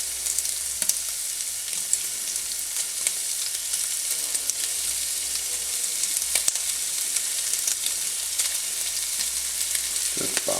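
Ground meat for chili lasagna sizzles steadily in a pan, a dense continuous crackle broken by occasional scrapes of the spatula breaking it up.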